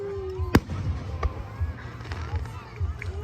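Fourth of July fireworks bursting outdoors, one sharp loud bang followed by further pops and crackles amid crowd noise, with excited shouting and talk throughout.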